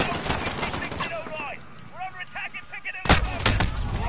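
Pistol shots crack out in quick succession during the Call of Duty: Modern Warfare 2019 campaign, mixed with game music tones and a loud burst near the end, while a voice speaks over it.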